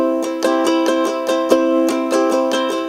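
Bright, close ukulele chords strummed in a steady down-down-up-down-up pattern, evenly spaced with no voices, as practice for a worship song.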